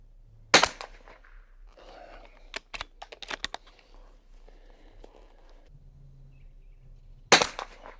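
A Bergara BMR .22 Long Rifle fires two sharp, loud cracks several seconds apart. Between the shots come quieter clicks and handling noises, with faint low murmuring.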